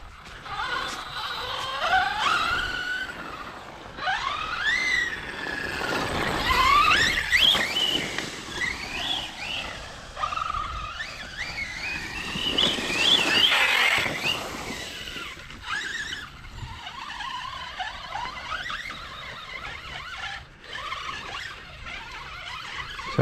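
A Kagama MTX radio-controlled car screams with high, rising and falling whines as its differentials spin and its tyres slip, in repeated surges of revving with shrill squeals between.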